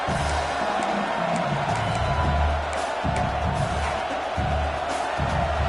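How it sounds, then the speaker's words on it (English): A large stadium crowd at an American football game roars steadily to help the home defense, a dense wall of cheering and shouting that swells and holds throughout. "Listen to this crowd just shaking the girders of this place, trying to help their defense."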